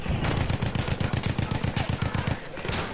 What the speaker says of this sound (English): There's sniper bullets everywhere.